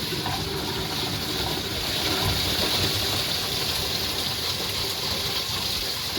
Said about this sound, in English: And let it drain out.